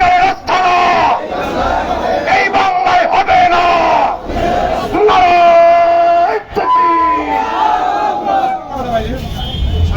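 A large crowd at a protest march and rally in Nilphamari, Bangladesh, shouting slogans together in loud, continuous rhythmic chants with brief pauses between phrases, dense and close throughout.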